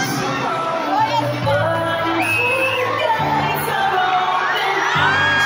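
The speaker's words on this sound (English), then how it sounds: "The loudest in the crowd will be noticed by Brian Magunas." Volleyball fans in an arena crowd shouting, cheering and whooping together to be noticed by a team captain, a loud continuous roar of many voices with higher excited yells rising through it.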